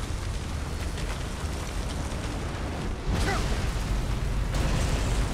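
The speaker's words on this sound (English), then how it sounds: "Had a ceiling fall on me." A ceiling caves in during Skyrim, a sudden rumbling crash of falling stone that bursts in over steady game ambience, followed by a second loud surge a moment later.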